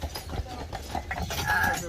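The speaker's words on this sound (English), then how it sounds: "Carriages with the 3 horses." Carriage horses clopping along on Mackinac Island, their hoof beats steady and moderately close, mixed with people talking in the background.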